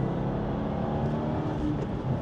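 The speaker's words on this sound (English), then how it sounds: "Rev matching's pretty easy." A 2025 Subaru WRX tS engine hums steadily from inside the cabin, a continuous close drone with slight rises in pitch as the driver blips the throttle to rev match, no one talking.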